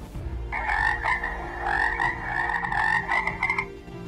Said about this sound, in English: two frogs